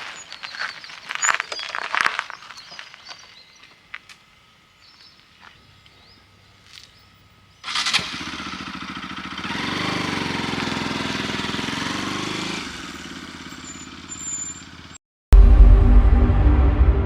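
A vehicle engine turns over and then runs with a loud, steady rumble for several seconds, in a Tamil short film scene. A sudden louder burst follows near the end.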